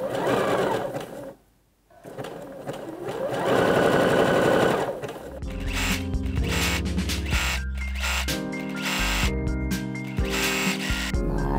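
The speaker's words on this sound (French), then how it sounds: "on va piquer notre élastique de manière à ce que le zigzag il soit à 2-3 mm du bord du tissu et de l'élastique" A sewing machine zigzag-stitches elastic onto swimsuit fabric. The whir is close, with one brief pause early, then turns into a busier, uneven run of mechanical stitching that continues to the end.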